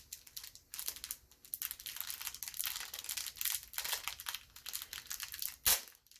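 Crinkly foil wrapper of a Pokémon trading card booster pack being worked and torn open at close range, a run of dense crackling rustles with brief pauses and one sharp rip near the end.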